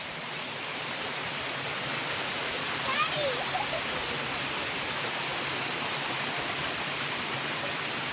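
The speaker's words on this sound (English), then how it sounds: "We're at the top of the waterfall." Steady hiss of a waterfall heard from its top, a dense constant rush of falling water, with a faint brief voice partway through.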